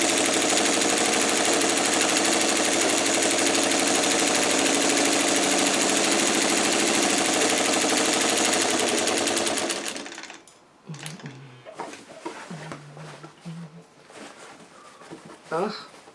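A sewing machine fitted with a walking foot stitching bulky pillowcase fabric runs in a steady, loud mechanical whir, then stops, leaving quieter handling noises and a person talking.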